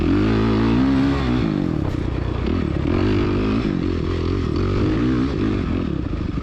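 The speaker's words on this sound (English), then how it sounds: "now it's time to get the old 450 to do what it does best and push that throttle and throw some mud" A 450 dirt bike engine roars loudly and close, revving hard and rising and falling with the throttle during a muddy cross-country race, with a little scraping and clatter.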